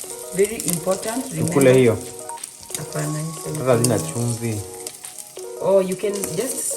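Beef pieces browning in a pan for beef stroganoff, a continuous sizzle with occasional stirring, heard under someone talking throughout.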